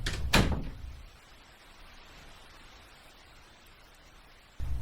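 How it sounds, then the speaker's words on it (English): A door closes near the start with a soft knock and thud, followed by a faint low hiss of room noise and another dull bump at the very end. "Hankio followed her, closing the door behind him."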